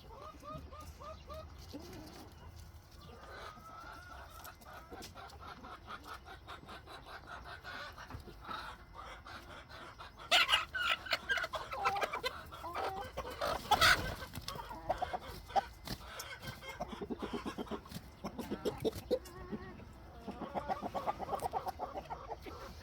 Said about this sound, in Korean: 같이 남아 있는 바깥에 있는 수탉인데 안탉을 별로 안 괴롭혀서 얘는 두고 있는 상태거든요